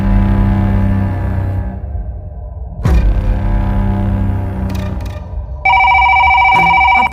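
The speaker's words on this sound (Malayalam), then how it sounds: "അപ്പോഴേക്കും റിസപ്ഷനിൽ ഫോൺ റിങ് ചെയ്തു." At a hospital reception desk a telephone rings, with loud electronic bell tones entering after a few seconds, set against a low droning hum and a few sharp clicks, with no voices.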